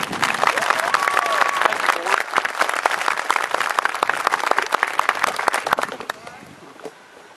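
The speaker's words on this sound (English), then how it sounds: "Please join me in giving them a round of applause." An outdoor audience applauds at a high school groundbreaking ceremony in Davie County, brisk crowded clapping with scattered louder near claps and light cheering, tapering off over the last second.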